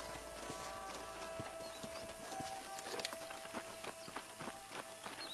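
Horse hooves clip-clop at a walking pace in a video game, several horses moving together at a moderate distance, fairly quiet and uneven in rhythm.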